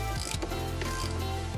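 A socket ratchet turns a 36 mm oil filter cap on a Freightliner Cascadia truck with a DD15 engine, making quick mechanical ratcheting clicks over a steady low hum.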